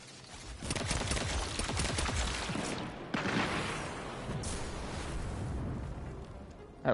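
A loud video game explosion deep in a gorge, a sustained roaring rumble followed by a sharp secondary blast around the midpoint and another burst at the very end.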